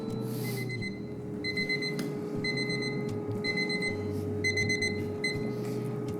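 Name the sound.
kitchen timer alarm going off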